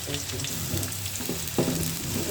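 Chopped garlic and onion frying in a pan for a potato and bitter gourd dish, a steady close sizzle with stirring scrapes and a louder crackling burst as the onion goes in.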